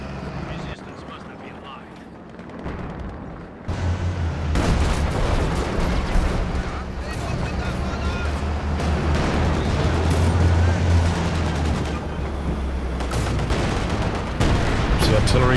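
Heavy artillery fire rumbling through a World War II strategy game battle, with a thick, sustained low boom and scattered gunfire bursts after a quieter opening; a commentator talks over it throughout.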